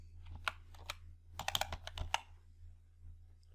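Typing on a computer keyboard while entering an Excel formula: irregular clusters of crisp, close key clicks over a low steady hum, with no talking.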